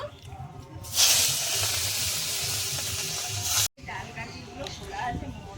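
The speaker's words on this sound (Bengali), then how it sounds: "এবার আমি চিংড়ি মাছটা ভেজে নেব।" Prawns dropped into hot mustard oil set off a sudden loud hissing sizzle that holds steady for a few seconds, then drops to quieter crackling frying.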